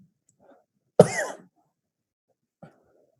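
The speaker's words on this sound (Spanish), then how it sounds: "hace casi un mes estoy con tos" A single loud, harsh cough bursts out alone in a quiet room, followed by a faint throat noise a moment later.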